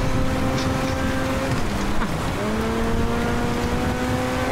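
A Corvette in GTA 5 races off with a loud, sustained engine drone whose pitch dips and climbs again as it shifts, under a constant rush of road and wind noise.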